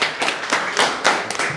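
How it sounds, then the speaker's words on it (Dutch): A small group of people clapping on a Dutch dating show, quick uneven bursts of hand claps close to the microphone, loud and irregular with short gaps. "Oké, klappen, klappen, klappen, klappen, klappen."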